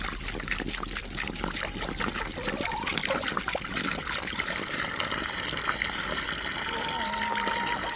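Warm water trickles and pours steadily for chickens on a farm in winter, a continuous close splashing stream with faint background noise throughout.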